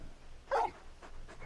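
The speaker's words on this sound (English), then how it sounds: "You're just a big puppy, aren't you? A very big puppy." A very big dog in Final Fantasy XVI gives one short whimper, a brief whine over a quiet game background.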